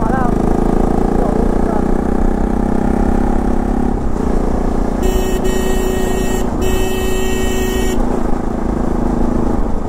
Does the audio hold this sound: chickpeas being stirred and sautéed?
no